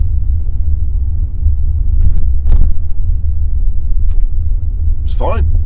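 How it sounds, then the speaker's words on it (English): A 2011 Renault Clio iMusic rolls over a speed bump, heard from inside as a loud, steady low road and engine rumble with a brief jolt partway through. "Speed bump."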